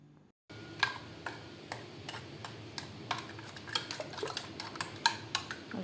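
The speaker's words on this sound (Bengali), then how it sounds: "তো আমি সুন্দর করে এখন এগুলারে ফাটাবো ভালো করে।" Eggs being beaten with sugar in a bowl, quick repeated clinks and taps of a utensil against the bowl in an uneven rhythm, fairly close but quiet, with no voices.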